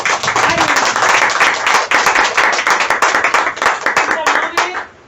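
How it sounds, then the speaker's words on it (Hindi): A room full of people claps loudly at a sales presentation in a herbal store, a thick, fast patter of hands going strong for several seconds before thinning and tapering off at the end. "जोरदार ताली"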